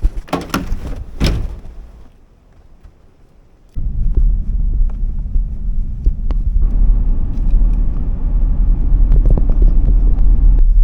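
A truck engine rumbles steadily on a snowy mountain road, a low continuous drone that starts abruptly after a few seconds of near quiet, preceded by a couple of sharp knocks or door thuds.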